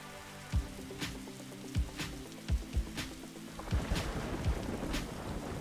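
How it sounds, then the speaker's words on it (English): Steady rain in a Roblox airport setting, a dense even patter with several low thunder-like rumbles rising through the wash, no voices present. "it's currently raining at the airport, Roblox, airport"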